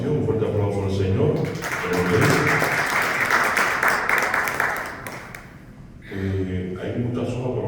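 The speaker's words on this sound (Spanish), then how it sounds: "Un fuerte aplauso al Señor." A charismatic congregation bursting into loud applause, a dense wash of clapping in the middle with talking before and after it.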